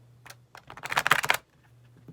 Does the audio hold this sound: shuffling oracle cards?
yes